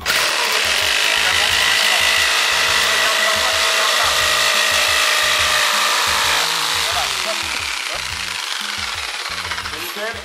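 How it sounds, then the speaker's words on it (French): A hand saw rasps through wood in steady back-and-forth strokes, loud and close, continuing without pause throughout. "Il faut que ta lame de scie, elle suive le trait."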